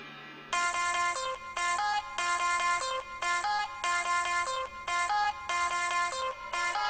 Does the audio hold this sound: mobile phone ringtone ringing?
yes